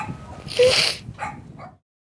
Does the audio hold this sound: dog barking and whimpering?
yes